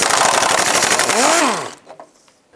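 A power ratchet or impact tool whirs rapidly as it backs out a 12mm bolt from the under-engine shield of a 2003-09 Toyota 4Runner, loud and close, then stops abruptly, leaving faint clicks.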